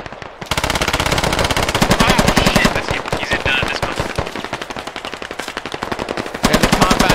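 In the video game Squad, sustained machine gun fire rattles in long, rapid bursts, loud and close, with a brief pause before another burst resumes.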